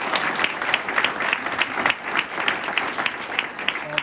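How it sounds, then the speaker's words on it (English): An audience applauds continuously through the whole stretch, dense clapping from many hands that stays steady and moderately loud, with some crowd murmur underneath. "could you give them one more round of applause?"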